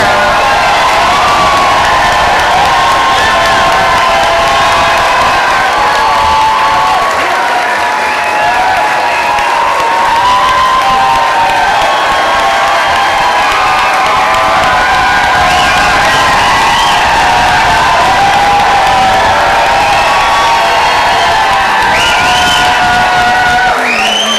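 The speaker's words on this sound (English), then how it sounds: "we owe her a round of applause that I think you're about to give her" Large crowd cheering, whooping and applauding at a political rally after a Wisconsin recall primary election, loud and sustained throughout with shouts rising above the clapping.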